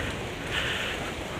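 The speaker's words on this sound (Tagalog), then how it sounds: "Medyo malakas yung ulan." Heavy rain falling outside a house in the Philippines, a steady dense hiss of drops with no breaks, fairly loud and close, with no voices.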